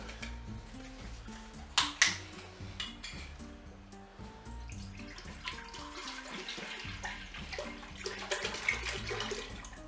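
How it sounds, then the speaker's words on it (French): Milk poured into the bowl of a Cookeo multicooker while making a chocolate cream: a soft, close liquid stream and splashing follow a couple of sharp knocks, running steadily for several seconds without any voices. "je vais en profiter pour ajouter mon lait que je vais mettre dans la cuve"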